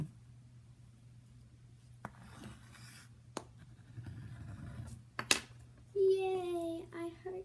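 Chalk writing on a homemade chalkboard, several faint short scratchy strokes over a steady low hum, followed by a voice talking nearby.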